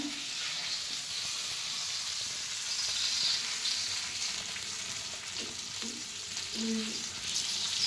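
Fish coated in masala shallow-frying on a flat tawa, a steady close hiss and crackle of oil running through the whole stretch with no voices over it.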